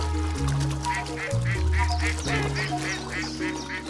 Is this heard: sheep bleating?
no